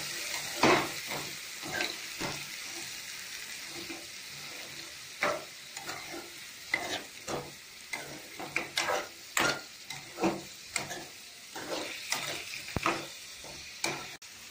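Crabs frying in a pan with browned onions and curry leaves, a soft steady sizzle broken by repeated sharp scraping and clinking strokes of a spoon as the pan is stirred, close and fairly loud.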